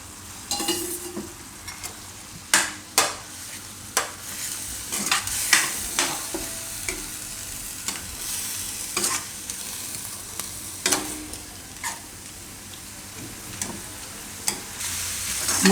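Corn kernels cooking in a pan of palak khichdi, with a low bubbling sizzle and frequent sharp spoon scrapes and knocks against the pan, close and clear with no talking.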